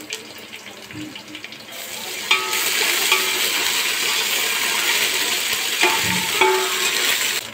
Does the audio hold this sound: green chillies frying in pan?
yes